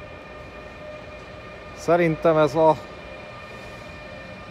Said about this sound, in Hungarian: közben itt jön egy másik vonat, méghozzá oda nézzetek,